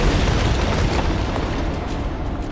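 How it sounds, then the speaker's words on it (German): An exploding tourist anomaly in Pacific Drive gives a heavy, booming blast with a continuous loud rumble that fades slowly. "Da ist noch eins von diesen Touristen, die so schön explodieren und wertvolle Sachen fallen lassen."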